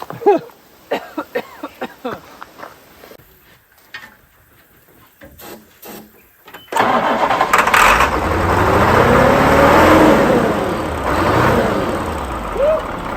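An old diesel engine in a machine with an enclosed cab on a pond-building site fires up and settles into a loud, steady running rumble, after voices talking over scattered clatter.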